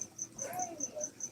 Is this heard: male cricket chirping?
yes